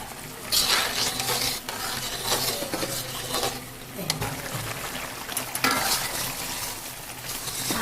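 Chhana (cottage cheese) dropped into a simmering vegetable curry and stirred in a pan, giving a continuous loud sizzle with scraping spoon strokes and rustling, no speech.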